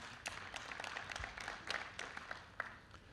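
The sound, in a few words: audience applauding event staff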